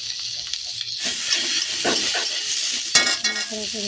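Potatoes fry in a pan with a steady close sizzle and hiss while a utensil stirs them, giving scraping and clinking sounds against the pan, without any talking.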